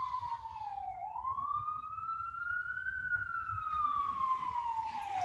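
Emergency vehicle sirens pass by outside during a yoga class: one steady wailing tone slowly sinks, rises and falls again, moderately distant, over a low rumbling background with no talk.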